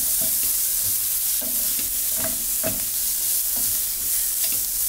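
Onions sauté over medium heat in a pan, a constant close sizzle with repeated clacks and scrapes of a utensil stirring them through the oil.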